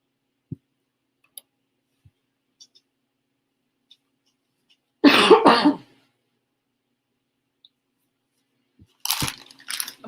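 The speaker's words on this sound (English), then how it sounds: "coughing and carrying on." A single burst of coughing, close and fairly loud, then a shorter cough-like burst near the end, with faint clicks and ticks in the quiet between.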